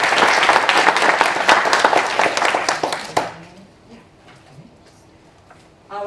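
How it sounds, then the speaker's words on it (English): Audience applause for a $500 scholarship winner at a book presentation, loud dense clapping for about three seconds that then drops off sharply to quiet room noise, with a brief sound returning at the end. "I think he deserves a round of applause."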